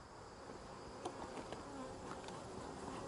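Honey bees buzz steadily at an open hive during an inspection, a dense, even drone of many wings close by, with brief louder passes of single bees flying near.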